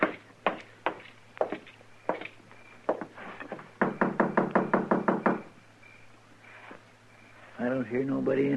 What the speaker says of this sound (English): I thought I heard somebody knock.